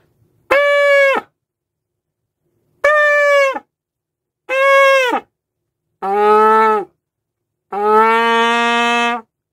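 Trumpet buzzing practice on a plastic buzzing aid, played with mismatched lip pressure: five separate buzzy, honking tones, each about a second long, with the last two lower and rougher. Loud and close, with no talk.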